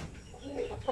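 A Shamo Aseel rooster gives a few short, low clucks close by, with a sharper cluck near the end of the brief moment.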